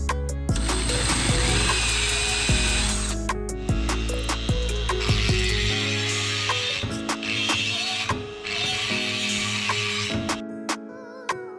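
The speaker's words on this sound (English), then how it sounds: "I'm gonna start grinding on the deck of this thing and get prepped to weld it." Power grinder working the steel deck surface of a 4G63 cylinder head, a loud continuous whine with shifting pitch as the disc presses and lifts, broken by short pauses and scraping bursts, no talk.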